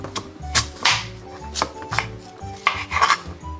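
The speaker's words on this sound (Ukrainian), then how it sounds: "Ріжемо яблука на дольки" Knife slicing sour apples into wedges on a cutting board, a quick run of crisp, separate chops in an uneven rhythm, close and clear with no talking.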